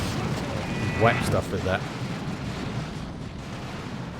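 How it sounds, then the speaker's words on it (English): Basilisk artillery rounds strike and explode in the Dawn of War 2 battle game, a rumbling series of booms and blasts under ongoing battle noise while someone talks over it. "3 Basilisk rounds, each doing 150 rocket damage"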